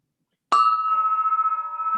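A clock chime rings out with a sharp struck onset, then a bright tone sustains and beats slowly as it decays, with a second softer tone entering near the end.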